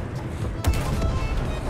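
A tank cannon fires in War Thunder gameplay: one sharp blast lands partway through, followed by rumbling battle noise and scattered gunfire.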